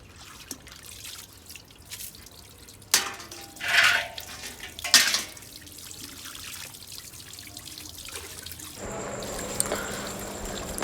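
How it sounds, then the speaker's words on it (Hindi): Wheat grain being washed in water on a rooftop, with sloshing splashes, dripping and metal vessel clinks in irregular bursts, ending with a steady pouring trickle, close and without talk. "तो जी बस यहाँ पे मैं कणक धो रही हूँ"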